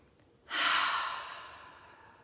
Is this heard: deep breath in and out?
yes